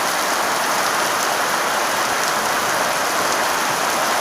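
Steady morning rain during a storm, a dense, loud, unbroken hiss of drops falling on surfaces, with no voices.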